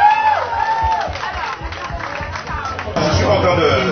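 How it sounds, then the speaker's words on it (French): An audience applauds and cheers for candidates at a gathering in Bouillante, with crowd chatter and a voice running over the clapping, which swells louder near the end. "Je vous demande d'applaudir très fort nos candidates"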